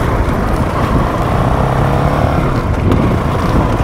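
A Honda CRF450RL dual-sport motorcycle ridden over gravel, with a loud, steady engine drone and a constant rumble of tyres and wind right at the microphone.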